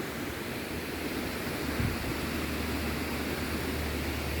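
Continuous rushing water noise, steady and broad, like a stream flowing nearby with no voices over it.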